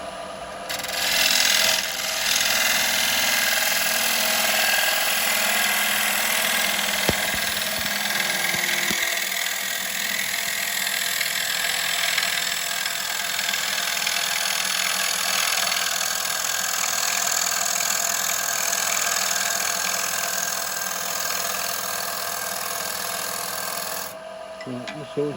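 Wood lathe spinning a bowl while a bowl gouge cuts it, giving a loud, continuous rasping hiss that holds steady for most of the time before stopping near the end, close by with no talk.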